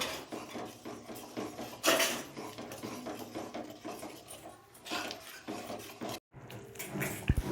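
A spatula stirs mustard paste into lotte fish in a pan, giving close scraping and clattering of metal on cookware with irregular rubbing strokes and a few sharper knocks.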